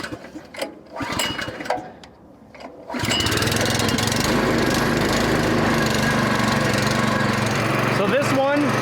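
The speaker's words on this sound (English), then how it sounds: "we're gonna take one round, run it through the small splitter, fire up the conveyor" A small commercial log splitter and its conveyor start up after a few seconds of quieter sounds, then run as a loud, steady engine-driven mechanical roar that fills the rest of the clip.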